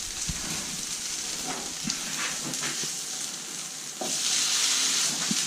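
Bubble and squeak browning in a frying pan gives a steady close sizzle with scattered spits and light scraping, growing louder and hissier in the final second.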